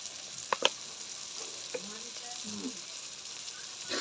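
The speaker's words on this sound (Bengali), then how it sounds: "ভালো করে কষাই নিব।" Spices being sautéed in a pan for a vegetarian potato curry, with ground coriander and green chilies; a steady soft sizzle runs throughout, with a few sharp clinks of a utensil near the start.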